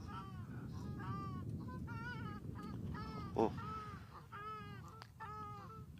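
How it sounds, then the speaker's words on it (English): South African shelducks call with repeated harsh, honking squawks at a watering hole, several bursts at mid-distance over a steady low rumble, with a brief exclamation from a person in between. "Southern African shell ducks that's just making a noise there"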